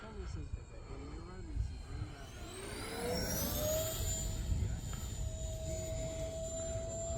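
E-flite A-10 Thunderbolt II radio-controlled jet flying overhead with its landing gear lowering: a steady whining ducted-fan tone that rises and sweeps in pitch as the model passes nearby, over wind and outdoor background noise.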